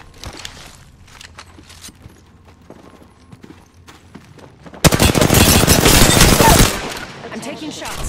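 Bursts of gunfire from the battle royale shooter Apex Legends during a season 15 squad match, a loud dense volley of rapid shots in the second half after quieter footsteps and movement sounds.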